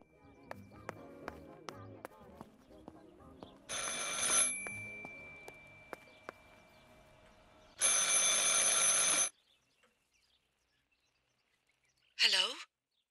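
An old telephone ringing in the video game Martha is Dead, with bursts of a loud bright bell separated by pauses, alongside quiet tonal effects and a brief voice-like sound.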